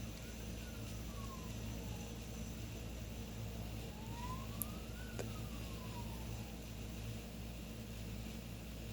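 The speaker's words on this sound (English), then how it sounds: "That was a weird siren outside." A distant siren outside with a whistling quality, faint rising and falling sweeps over a low steady hum indoors.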